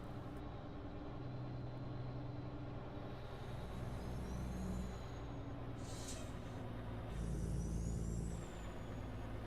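A truck's air brakes in American Truck Simulator hiss as the engine drones low and steady, with sharp bursts of air release and a rising whine over the rumble.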